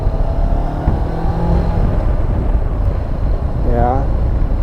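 A 2019 Honda CB500X motorcycle on a test ride, its engine droning steadily and loud with wind rush throughout, a brief rising tone near the end.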